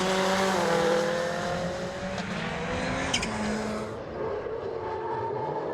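Rallycross cars race at Lydden Hill, including a Ford Fiesta: a loud, steady engine roar with rising and falling pitch as cars pass close by, plus a brief higher sharp burst midway, with no talking.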